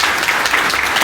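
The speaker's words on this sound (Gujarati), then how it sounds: "પહેલા તો સૌથી બધા એક જોરદાર તાળી પડી" Loud, dense applause from a crowd at a community gathering, a short continuous burst of clapping heard up close.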